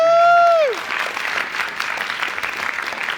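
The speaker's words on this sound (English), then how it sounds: "Everyone give a big round of applause" Audience at a philosophy debate on whether God exists breaks into sustained applause, a dense steady wash of clapping that follows a brief descending tone and continues evenly to the end.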